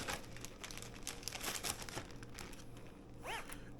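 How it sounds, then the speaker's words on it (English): Fingers press along a zip-top freezer bag to seal it airtight, giving a run of crinkly plastic clicks and rustles followed by a short zipping rasp near the end, close and fairly quiet. "Press and zip."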